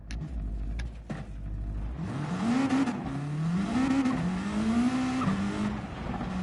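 A race car engine in Gran Turismo 7 drones and revs at the Colorado Springs circuit, its pitch climbing and dropping repeatedly through gear changes, loud and continuous after a brief rumble.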